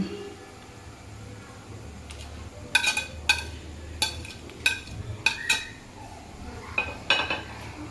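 Vegetables that were fried earlier are added to a pot of veg pulao, and there are several sharp clinks and scrapes of a metal utensil against the pot. The clinks come in irregular bursts over a low background hum.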